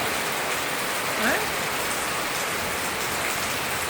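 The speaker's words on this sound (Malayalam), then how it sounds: "മഴ കാണാൻ പോണോ" Steady rain falling on surfaces outdoors, a dense continuous hiss with constant loudness throughout and no other prominent sounds.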